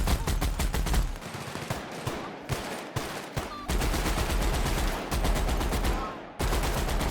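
Gunfire in a firefight in The Outer Worlds video game, a dense, loud barrage of rapid repeated shots with brief gaps that keeps going almost without pause.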